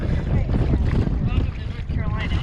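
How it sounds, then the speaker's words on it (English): Strong headwind gusting to 20 buffets a kayaker's microphone on open water, a loud continuous roaring rumble with water sloshing against the hull and a voice faintly underneath. "Don't you love days where whichever direction you have to go, the wind's in your face?"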